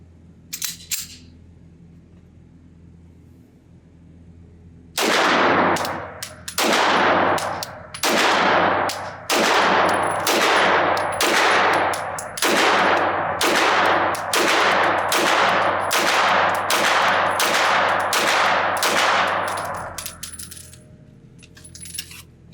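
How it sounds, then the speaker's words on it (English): About fifteen loud, sharp shots from a Sig Sauer P226 TacOps pistol with an SRT trigger, fired at a target seven yards away on a range. They come in a steady, evenly paced string with no talking. "I'm gonna set the target up at 7 yards, put 15 rounds through it."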